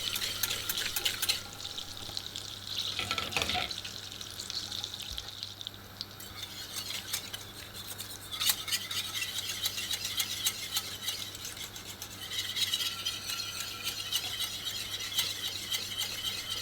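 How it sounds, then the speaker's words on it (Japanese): Butter being stirred in a cold pan as it browns into beurre noisette for Milanese green asparagus, a steady scraping and bubbling with soft sizzle, continuous and close, no voices. "冷たい鍋にバターを入れてよく混ぜながらブルノワゼットを作ります。"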